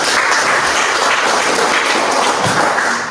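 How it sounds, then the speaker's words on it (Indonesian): An audience claps loudly and densely after a group game, a full wash of many hands with a few thumps mixed in, steady and close. "Tepuk tangan untuk kita."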